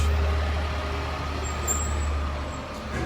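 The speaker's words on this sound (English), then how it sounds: "it's about to get really loud because of this beer truck" A beer truck rumbles loudly near a beach, its heavy engine drone steady and close throughout, with a brief high hiss partway through and no voices.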